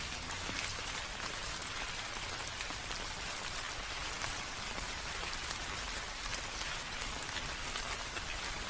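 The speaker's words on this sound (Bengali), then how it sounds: "টানা 1 ঘন্টা বৃষ্টি হলো, কিন্তু এ বৃষ্টি থামার নয়" Heavy rain as a cartoon sound effect, a dense, unbroken hiss of falling water that stays loud and even throughout with no voices.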